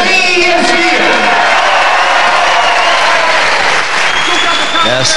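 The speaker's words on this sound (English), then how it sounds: "Yes, great deal of applause." A wrestling arena crowd applauds loudly and steadily after a fall in a professional bout, with cheers, whoops and scattered shouts rising over the dense clapping throughout.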